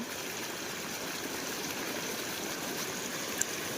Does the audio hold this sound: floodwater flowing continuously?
yes